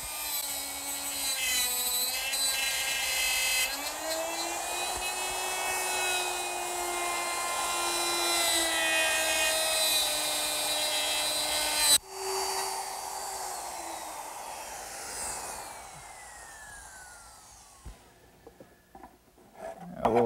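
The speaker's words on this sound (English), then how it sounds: "using my router with a dovetail bit and a little collar, I'll get perfect dovetails every time" A router fitted with a dovetail bit and guide collar cuts dovetails in wood for a slant top writing desk: a loud, steady high-pitched motor whine that abruptly cuts off and spins down to quiet.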